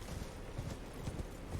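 Horse hooves clip-clopping in the video game Elden Ring, a steady walking rhythm of soft, muffled hoofbeats, moderately close over a low ambient bed, with no talking.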